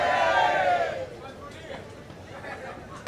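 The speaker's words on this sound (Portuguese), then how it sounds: "Torcida dando um show à parte aqui nesse momento." A beach volleyball crowd in the stands of a center court roars loudly, then settles into a softer murmur of cheering and chatter beneath a commentator's voice.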